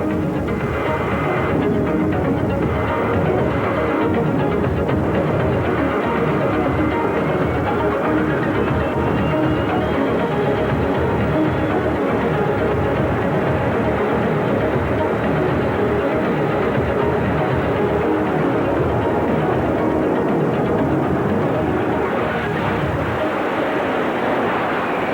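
Jet-powered drag racing cars roar down the strip at a drag racing event, a loud continuous turbine rush with about 12,000 pounds of thrust that holds for the whole stretch and drops off only slightly near the end.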